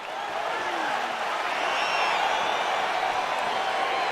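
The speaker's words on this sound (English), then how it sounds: "crowd getting excited as this fight gets underway" A UFC octagon crowd cheering as a fight gets underway, a dense, steady roar of many voices with scattered whistles and whoops riding on top, loud and sustained throughout.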